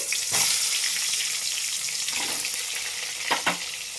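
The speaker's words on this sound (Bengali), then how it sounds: "এবার আমি আলুগুলো দিয়ে দেবো। আলুগুলো ভালো করে ভেজে নেব।" Potatoes fry in oil over a tempering of cumin and bay leaf, a loud, close, continuous sizzle with a few sharper crackles and stirring scrapes.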